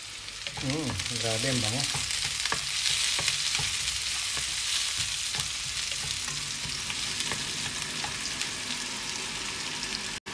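Onion and garlic sauté in olive oil with a bright, steady sizzle and stirring clatter near at hand; a voice speaks briefly near the start.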